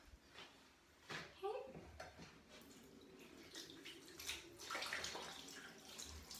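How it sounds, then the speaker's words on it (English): Hands being rinsed under running water at a sink during a bedtime skincare routine, close splashing and trickling that comes in uneven surges, with a voice speaking over it. "Rinse that off my hands."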